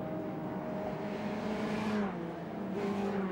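A Viper race car pulls out of a crowded pit lane back onto the course at the 2003 Nürburgring 24-hour race, its engine a steady, loud drone with a rising pitch sweep as it accelerates away, and no talk.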